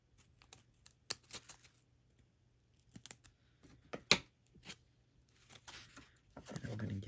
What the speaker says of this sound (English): I'm gonna trim the ends.